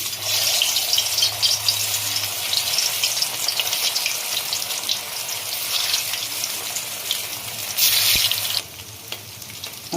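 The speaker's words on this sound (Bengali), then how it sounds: "এরপরে আমি এক এক করে ভেজে নেব" Soya koftas shaped into balls frying one at a time in white oil, giving a steady, loud bubbling sizzle throughout with a brief louder burst near the end.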